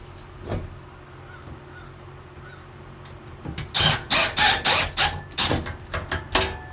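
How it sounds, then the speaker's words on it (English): A powered driver sinks a screw into a wooden beam while building a sawdust separator, a series of loud, close, stuttering whirring bursts after a quiet pause. "We have our lines marked, and then screw it into the beam."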